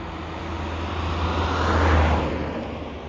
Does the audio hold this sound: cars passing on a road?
yes